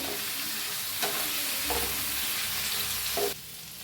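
A spiced capsicum mixture roasts in a pan, a dense continuous sizzle with a few stirring scrapes, close and steady, easing slightly toward the end.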